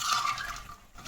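A spoon stirs chickpeas cooking with a little refined oil and water in a pot, a brief close scraping swish ending in a light clink.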